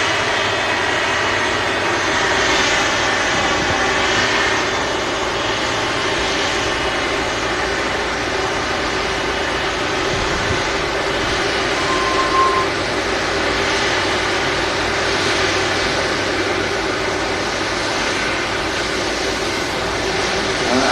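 A Boeing 777 jet at Manchester Airport with its flaps out, its broadband engine roar steady and moderately loud for the whole stretch, with no talk over it.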